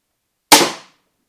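An Excalibur crossbow looses an arrow in one sharp, loud snap that dies away quickly, with silence before and after.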